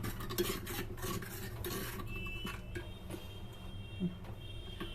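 Slurry mixture slowly stirred in a pot with a utensil, soft scraping and clinking strokes at an even pace, close and fairly quiet over a low background hum.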